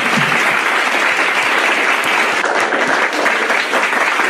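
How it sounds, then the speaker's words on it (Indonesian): Audience applause at a Muslim religious gathering, a dense, loud and sustained wash of clapping with no voices over it. "Tepuk tangan. Tepuk tangan."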